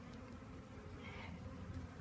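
Honeybees buzz softly and continuously during a hive installation, a faint steady drone close by with no talk.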